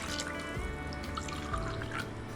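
Water is poured from a glass into rice for chole masala pulav, a close, steady trickling and splashing pour heard alone.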